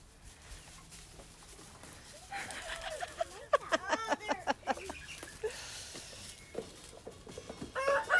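A flock of turkeys gobbling and clucking in a busy, warbling burst, the calls rising in the middle and returning near the end; moderately close.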